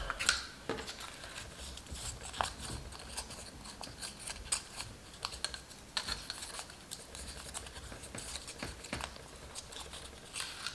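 Paper side panels of a cardstock gift box being folded by hand, giving soft repeated creasing, rubbing and crinkling sounds with sharp little snaps, close and fairly quiet throughout.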